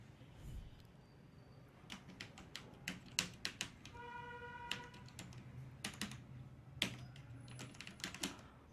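Clicking keystrokes on a computer keyboard while an email address is entered into an online form, quiet and close, coming in irregular bursts of taps with short pauses.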